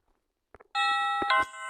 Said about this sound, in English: the parents sing a congratulatory song, which is interrupted by the doorbell now